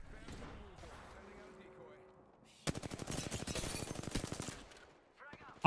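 Rapid automatic gunfire in the online shooter Apex Legends, a dense burst of shots lasting about two seconds, coming after quieter game sounds and a voice.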